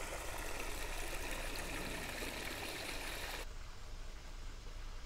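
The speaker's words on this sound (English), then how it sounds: "In this garden, they have this fountain, which is running and provides fresh water for birds and other critters" A garden fountain in a native plant garden at a conservation park runs steadily, a continuous close splashing wash of water that drops to a softer, duller trickle partway through.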